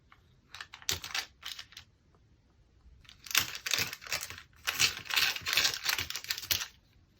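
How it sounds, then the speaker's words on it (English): Paper is torn by hand to make a journal tag, heard as two bursts of close, crisp ripping and crinkling, a short one first and a longer one after a pause, with no speech. "We'll tear this off."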